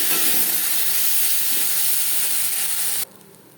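Moong dal goes into hot oil tempered with cumin, dried chili and a bay leaf, setting off a loud, steady sizzle and hiss close by. The frying stops abruptly near the end.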